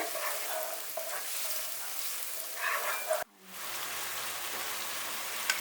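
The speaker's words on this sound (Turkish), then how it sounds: "havuçlarla birlikte kavurmaya devam ediyorum." Carrots and onions sizzle and crackle in a hot pan, briefly dropping quiet before the frying hiss resumes steadily.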